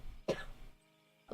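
Two sharp coughs, close and abrupt, separated by about a second of near silence.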